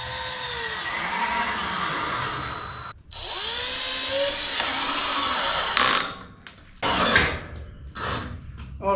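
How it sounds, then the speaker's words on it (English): A power drill drives the last screws into a wooden stud while framing a garage battery storage room, several loud whirring bursts with pitch rising and falling, separated by brief pauses and sharp clicking stops. "Last couple of screws into this wooden stud."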